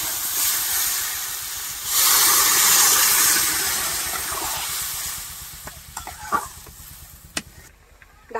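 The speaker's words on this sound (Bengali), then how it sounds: "আরো কিছুক্ষণ ভালো করে কষিয়ে নেব" Fish curry is stir-fried in a pan with a loud, close sizzle and hiss that swells, then fades into scattered stirring clinks and scrapes near the end.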